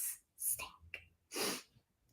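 A person sneezes, with a sharp burst followed by another breathy outburst, close to the microphone and otherwise quiet.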